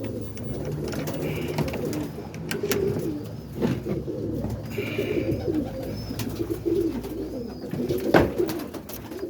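Roller pigeons coo softly inside a loft, low repeated calls among faint shuffling and background noise, with no one speaking.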